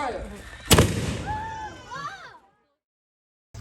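A historic matchlock musket fires at Colonial Williamsburg, one sharp loud boom followed by a rumbling echo as voices react, then a sudden cut to silence.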